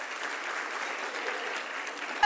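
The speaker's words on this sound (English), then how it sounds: "Let's give her a round of applause." A round of audience applause, sustained and fairly even for a couple of seconds before stopping abruptly.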